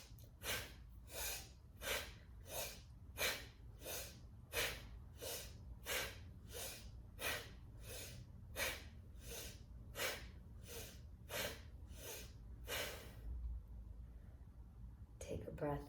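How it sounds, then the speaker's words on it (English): Deep breathing exercise with rapid rhythmic inhales and exhales, about twenty sharp forceful breaths in a steady pulse, close and clear, then a pause near the end. "We're going to use the lung muscles to help us do this breathing exercise."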